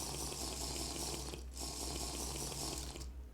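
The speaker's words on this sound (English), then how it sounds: "Water." Flowing water in TerraFirmaCraft, a Minecraft mod, as a steady broadband rush that briefly dips twice, with a low hum running underneath throughout.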